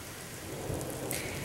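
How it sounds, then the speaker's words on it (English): Heavy rain pours outside in a steady, loud wash with a dull rumble underneath, continuous and close, with no voices. "it's raining really bad out there."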